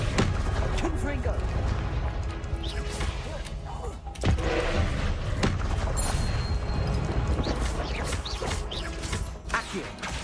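Confringo blast spell in Hogwarts Legacy: dense bursts of booms and crashes, one sharp impact standing out, continuous loud combat noise with some voice mixed in.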